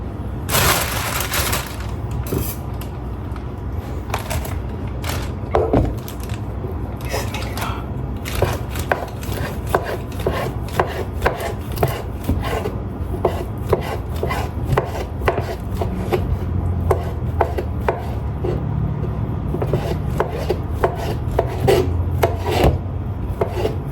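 A knife chops food on a cutting board up close, with many quick, sharp taps in an uneven but steady rhythm.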